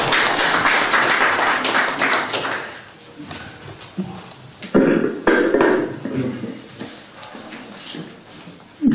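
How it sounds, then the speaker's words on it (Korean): An audience at a media coalition's first-anniversary event applauds to welcome a guest. The clapping is loud and busy at first, thins out after a few seconds, then returns in scattered bursts. "여러분, 큰 박수로 환영해 주십시오."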